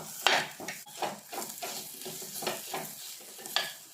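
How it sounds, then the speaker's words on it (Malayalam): Grated coconut being stirred as it roasts in a pan for a sardine curry: repeated close scraping strokes of a spoon against the pan over a soft continuous sizzle. "തേങ്ങയെല്ലാം നന്നായിട്ട് മൂക്കണം. അതിന് വേണ്ടിയിട്ടാണ് നമ്മളിതുപോലെ ഇളക്കി കൊടുത്തുകൊണ്ടിരിക്കുന്നത്."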